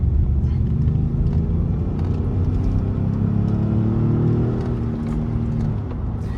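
A Ford Expedition with an EcoBoost engine and high mileage accelerating on the road, a steady loud cabin rumble with engine drone and tire roar that rises slightly in pitch, heard from inside.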